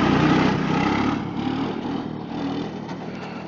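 A motor trike's engine running nearby, a steady rough low drone that is loudest at the start and eases slightly, with no talking over it.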